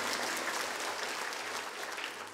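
A church congregation claps in praise during a Sunday morning sermon, a soft but steady spread of many hands applauding together without pause, fairly distant in the hall.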